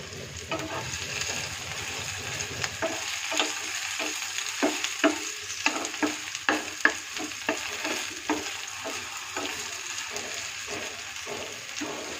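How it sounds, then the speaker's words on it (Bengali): Potatoes frying with hot spices in a pan, with a loud, close sizzle and a rapid, rhythmic series of spatula scrapes and taps as they are stirred. "আলুগুলো ভাজা হোক"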